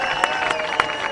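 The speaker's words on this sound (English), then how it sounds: "please join us in giving a huge round of applause for our 2025 Cascade" Crowd at a high school football game applauding and cheering for the senior players, a dense far-off roar of clapping and voices with a couple of louder bursts.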